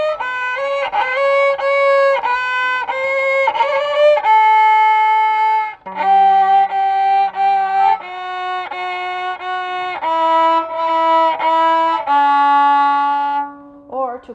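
Violin bowed too close to the fingerboard, giving a run of sustained bowed notes and short phrases that change pitch, played alone and fairly loud with no talking.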